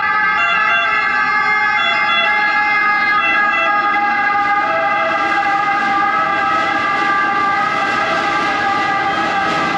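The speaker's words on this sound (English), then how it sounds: "The amount of ambulances that have gone past these last 2 days" Ambulance siren wailing on a Rome street, loud and steady for the whole stretch, with layered tones sweeping over low traffic rumble and no talk.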